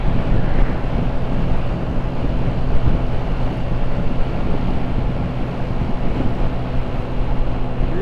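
Strong wind buffeting the microphone while riding a Honda Navi along Poplar Level Road in Louisville, Kentucky, a constant loud low rumble with some engine drone, steady for the whole stretch.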